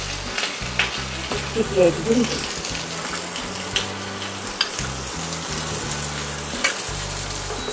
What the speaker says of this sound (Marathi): तेल टाकल्याने कसा कांदा लवकर होतो भाजल्या जाते